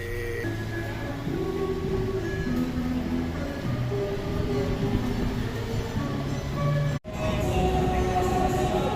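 Logawa passenger train at an Indonesian railway station, a steady low rumble with droning engine tones and a brief sharp break partway through, continuous and fairly close.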